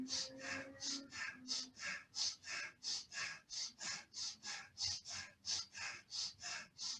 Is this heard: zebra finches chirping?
no